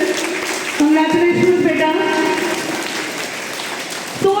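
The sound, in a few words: applause for a schoolboy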